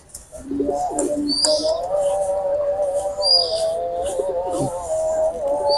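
Rampuri pigeons flutter and coo close by, a continuous soft cooing drone with brief chirps and a wing flap near the start, in a loft setting.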